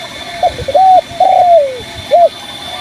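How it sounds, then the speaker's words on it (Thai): Wild birds call close by with a series of soft, rising and falling dove-like coos, several in quick succession and then a pause before a final one, over a quiet hiss. "นกป่าบินครับนกป่าบินมาครับรวมตัวนี้ครับ"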